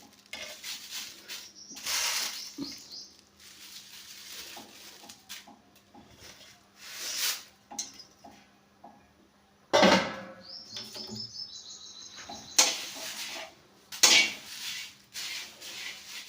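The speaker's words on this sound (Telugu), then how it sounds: "ఇప్పుడు కరివేపాకు కూడా వేపుతున్నాను" Curry leaves dry-roasting in a pan for Guntur-style sambar masala powder, with scattered stirring scrapes and clinks, faint crackling, and occasional bird chirps in the background.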